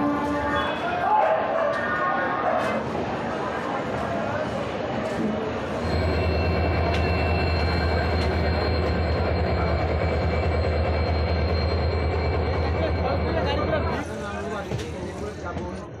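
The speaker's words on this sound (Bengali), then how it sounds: "তো ফাইনালি ট্রেন ছেড়ে দিয়েছে আমাদের গন্তব্যে যাওয়ার জন্য।" The Howrah–Mumbai Mail rumbles along after departing Howrah, heard from inside the coach as a steady low drone with rhythmic wheel and car noise, joined by a sustained tonal hum midway and occasional passenger chatter.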